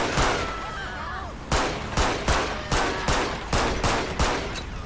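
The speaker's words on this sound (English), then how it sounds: "Okay, we got shots fired." Gunfire in the GTA V game with the LSPDFR police mod: a burst of sharp shots, then a steady series of loud single reports about every half second, close and punchy.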